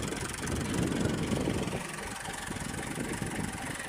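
A Massey Ferguson 260 tractor idles with a steady, rough engine drone that runs the whole time under noisy outdoor background.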